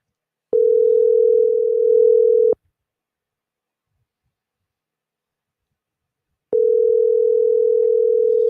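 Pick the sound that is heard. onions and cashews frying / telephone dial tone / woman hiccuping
telephone dial tone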